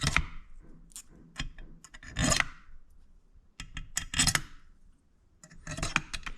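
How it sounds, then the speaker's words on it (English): Small metal screws dropped by hand into the plastic housing of an 8.4-inch Uconnect 4 car screen assembly, giving several scattered light clicks and rattles in short bursts with quiet gaps between. "We're gonna drop our screws back in here."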